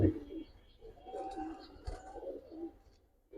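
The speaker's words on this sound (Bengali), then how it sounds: "লাল মাকড়া কবুতর" Low, soft cooing of red Giribaz pigeons murmurs repeatedly through the clip, close by, with faint rustling and some higher chirps in the background.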